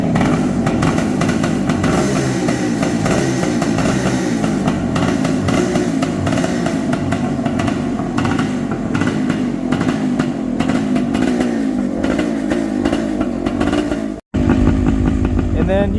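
A Honda CB750 chopper motorcycle with a new exhaust runs loud and close, its engine holding a steady, throaty roar before cutting out abruptly near the end and firing straight back up.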